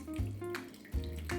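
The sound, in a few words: water poured to wet a V60 paper coffee filter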